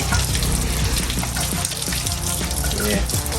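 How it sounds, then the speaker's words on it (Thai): Water sprays steadily onto the bare frame of an electric vehicle being washed before painting, a loud, close, unbroken hiss and splash from start to finish. "เราล้างโครงครับ เพื่อที่จะพ่นสีนะ"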